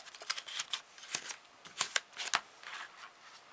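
Close, crisp paper crackles and scrapes come in quick irregular bursts as folds are pressed into paper for an origami strawberry, with no speech.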